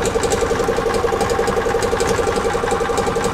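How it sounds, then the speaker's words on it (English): The gas engine of a 1999 EZGO TXT golf cart runs with its fuel pump pumping, a loud, close, steady mechanical chugging with a fast, even pulse and no voices. "now the fuel pump's pumping"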